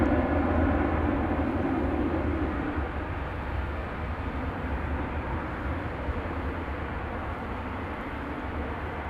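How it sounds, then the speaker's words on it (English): An American Airlines Boeing 737-800 departing DFW for Los Angeles gives a steady, broad jet roar, loudest at the start and easing slightly while it holds through the whole stretch, with no talk over it. "American flight 1999 off to Los Angeles. This is a 737-800."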